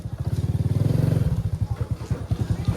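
A motorcycle is parked at a market, its engine idling up close with a fast, lumpy putter. The revs rise briefly near the start, then settle back into a steady chugging idle.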